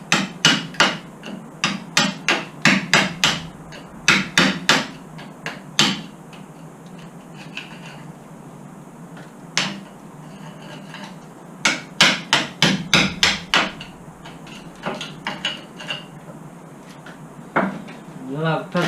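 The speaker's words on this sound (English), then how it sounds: "Whilst I've got the hammer in my hand and screwdriver." A hammer strikes metal on an old bus under restoration, in irregular bursts of rapid close blows separated by pauses, loud and ringing, with occasional talk in between.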